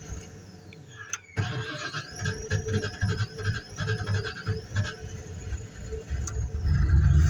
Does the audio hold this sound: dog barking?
no